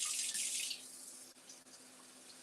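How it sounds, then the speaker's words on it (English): Water from a kitchen tap splashes into a pot being rinsed out, a steady close-up rush that runs strongest for the first moment and then settles into a softer, even flow. "I'm going to rinse this pot out because I need to use it again."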